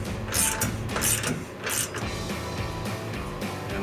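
A clamp being tightened on a C&L 4-inch single exhaust system for a 2015-2020 EcoBoost F-150, with close mechanical clicking and scraping metal sounds in short bursts.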